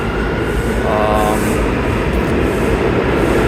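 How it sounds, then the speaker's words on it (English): An R179 subway train pulls out of Penn Station on the 8th Avenue line, a loud continuous rumble and roar of wheels on track with a brief squeal, close by in the station. "The train pulling out is a R179."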